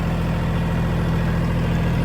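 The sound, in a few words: Mahindra 1635 tractor engine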